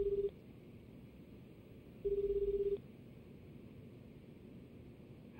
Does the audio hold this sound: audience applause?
no